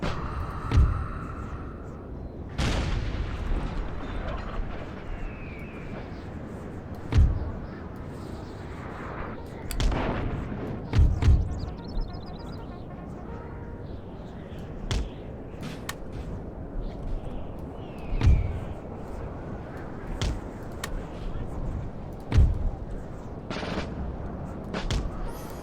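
Cannon and musket fire in a Napoleon Total War NTW3 mod battle, a series of sharp booming reports spaced irregularly, some near and loud, others more distant, over steady battlefield ambience with occasional talk.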